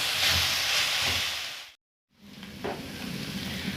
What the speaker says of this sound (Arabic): اشوح البصله شويه